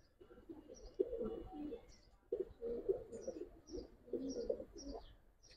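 An old-breed Giribaz (tumbler) pigeon coos close by in repeated low, throaty bursts, with a few faint higher chirps between them.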